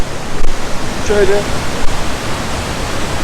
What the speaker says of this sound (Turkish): Şu an gittiğimiz şelale benim bildiğim Türkiye'deki en yüksek debili şelalelerden.